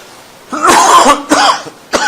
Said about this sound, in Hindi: सॉरी, बहुत खांसी